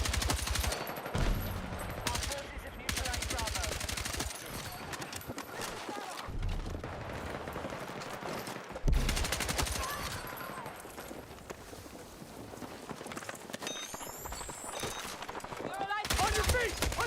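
Rapid vehicle-mounted gunfire in Battlefield 6, small light rounds rattling off in sustained bursts amid battlefield noise, with a voice talking over parts of it.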